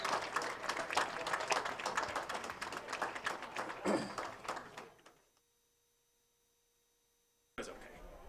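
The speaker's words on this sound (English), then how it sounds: "Out of about a round of applause for our seniors." Crowd applause for seniors at a high school football game, moderately loud scattered clapping that fades out after about five seconds, followed by near silence and then an abrupt return of crowd noise.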